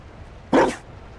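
A single short dog bark in the video game Dragon Age: Inquisition, loud and close, standing alone against a quiet background.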